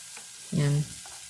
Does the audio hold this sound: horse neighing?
no